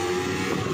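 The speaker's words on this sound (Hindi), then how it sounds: "पीछे एक हैवी बाइक आ रही है," A Kawasaki Ninja 300 heavy motorcycle on a Ladakh mountain road near Leh, its engine a steady loud drone up close with road and wind noise, no voices.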